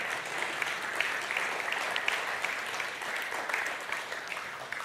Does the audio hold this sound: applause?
yes